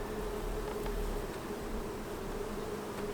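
Honeybees buzz steadily as they are moved into a nuc box, a dense continuous hum of many wings close by, unbroken and fairly loud throughout.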